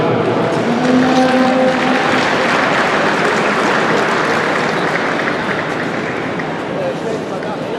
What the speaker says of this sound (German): Und einen kräftigen Applaus für diese ganz starke Gruppe.